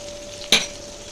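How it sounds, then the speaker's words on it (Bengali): Potatoes frying in oil in a pan, with a single quick stir that scrapes loudly over a faint, steady sizzle. "তো এবার একটু নাড়িয়ে দেব, যতক্ষণ আলুটা ভাজা হবে"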